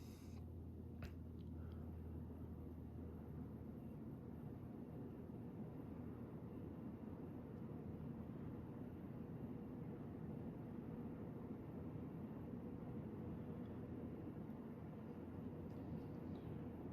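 A Hampton Bay Redington III 52-inch ceiling fan, formerly in a smoker's house, runs on high at about 165 RPM, giving a steady, even low whoosh and hum that holds throughout without any talk.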